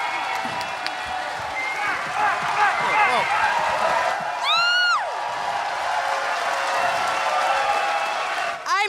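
A live audience at a political comedy show claps and cheers, with scattered whoops and voices rising over sustained applause, heard from within the crowd with talk mixed in.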